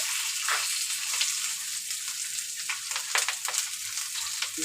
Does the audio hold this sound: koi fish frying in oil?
yes